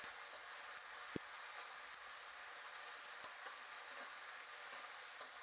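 Spices and ginger-garlic paste sizzle and fry in a pan, a soft steady hiss with a few faint scraping stirs of a spoon, quiet and without talk.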